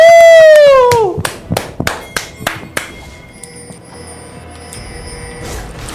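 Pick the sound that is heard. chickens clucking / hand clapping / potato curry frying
hand clapping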